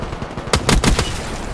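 A short, loud burst of rapid gunfire from the shooter game Black Ops III, several quick cracking shots in under half a second followed by a lingering low rumble.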